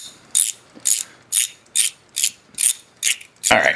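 A ratchet loosens 8mm bolts on a 1986 Honda Rebel 450 engine during teardown, giving about eight crisp, evenly spaced clicking bursts up close, then a longer rasp at the end, with no talking.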